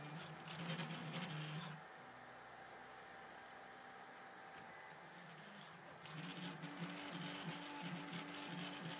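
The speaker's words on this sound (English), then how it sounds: "If the printing speed is set to 30mm per second, the effects of the weak mechanics become even more noticeable" A 3D printer with a direct granules extruder running at 30 mm/s, a steady mechanical whir with buzzy stepper-motor tones that shift in pitch as the head moves, quieter in the middle section, no talk.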